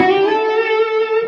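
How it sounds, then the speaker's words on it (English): Electric guitar played through a distortion effect on a Gemini pedal: a single sustained, gritty chord rings with rich stacked overtones and holds steady for just over a second, loud and close, with no voices. "I have a distortion set up on my Gemini"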